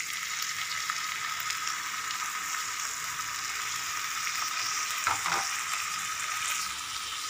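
Chopped tomatoes sauté in a hot pan of oil for paneer butter masala, giving a steady, even sizzle and frying hiss throughout, with a brief stir or scrape of the pan near the end.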